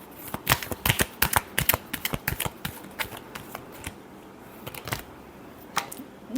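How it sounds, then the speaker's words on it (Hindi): Tarot cards shuffled by hand in a quick, close run of crisp riffling flicks and soft slaps, pausing briefly before a few final snaps, with no talking. "Last shuffle."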